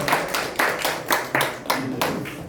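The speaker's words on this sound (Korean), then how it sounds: "우리 또 시장님 나오기 전에 박수 한번 부탁드립니다" Slow, rhythmic clapping at a Korean forum gathering, a handful of distinct claps about every third of a second, close and moderately loud with no talk over them.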